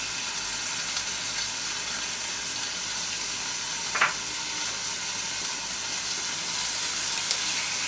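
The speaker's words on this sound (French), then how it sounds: "notre jus va finir de mijoter tout doucement" Jus of dry Basque chorizo and sage simmering gently in a pan, a soft constant hiss and fine bubbling held at an even level, with one brief small clink midway and no voices.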